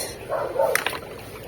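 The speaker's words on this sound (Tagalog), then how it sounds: "tapon natin tong tubig" Water poured out of a fish tank at a guppy farm, a short splash and slosh lasting under a second, fairly close.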